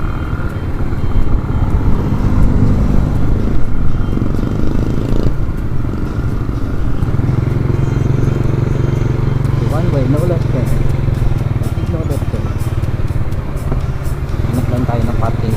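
A motorcycle rides through traffic toward a parking area, its engine drone steady and loud beneath a rider talking, with other vehicles passing nearby.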